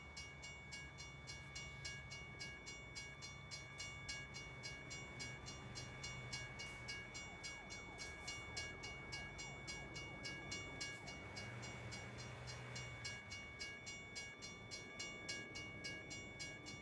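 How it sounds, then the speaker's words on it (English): A video game train in American Truck Simulator rumbles past steadily with a rhythmic clatter and a bright metallic tone, continuous and fairly distant, no voices. "And another train."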